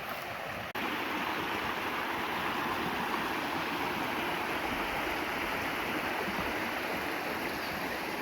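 A mountain stream on a fruit farm rushes in a steady, dense wash of flowing water, continuous and fairly close, with no voices over it.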